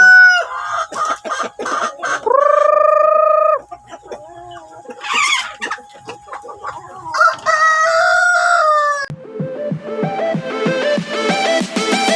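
Rhode Island Red and Basilan crossbreed chickens on a farm cluck repeatedly, with a loud rooster crow rising and holding midway, then dense overlapping clucking and chatter close by.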